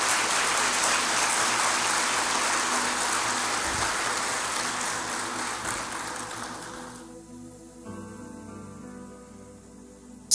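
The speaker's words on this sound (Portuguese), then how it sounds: "Você pode dar um aplauso para Jesus?" Applause from a church congregation, a dense, loud wash of clapping that carries on steadily, then thins and fades out near the end.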